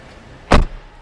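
Car door of a 2011 BMW 535xi shutting as someone gets in, a single solid thump near and loud against a quiet interior background.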